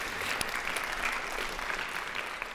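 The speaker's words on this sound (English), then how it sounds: "Can you give him a round of applause?" Audience applause at a legal tech conference, a dense, steady roar of many hands clapping that holds at an even level throughout.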